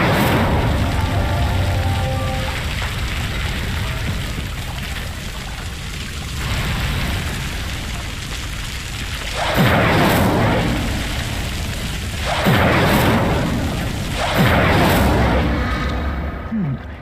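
Hogwarts Legacy Incendio fire spell cast repeatedly, a loud rushing whoosh and roar of flames in repeated surges over a constant crackling, windy game backdrop.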